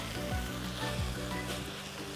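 Papaya thoran frying uncovered in a pan, a steady close sizzle with faint stirring scrapes and no talking.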